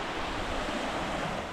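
Pacific Ocean waves wash steadily onto the shore in a brief, constant surf roar, close by and with no talking.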